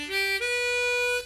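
A harmonica sounds a single unbent three-hole draw note, clear and close, held steadily for just over a second with a slight shift at the start.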